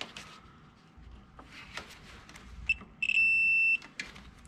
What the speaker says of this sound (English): So if I put it on continuity, you'll be able to hear it beep here in a second.